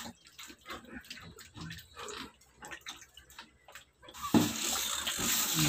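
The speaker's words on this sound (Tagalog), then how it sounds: "hugasan natin siyang muli sa gripo" Running tap water spills over a whole chicken being scrubbed and rinsed by hand, with soft wet handling noises at first, then a louder steady gush of water toward the end.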